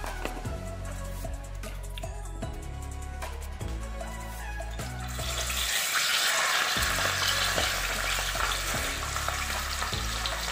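Boerewors sausage drops into a hot pan midway and a loud, dense sizzle rises over rhythmic background music and continues steadily.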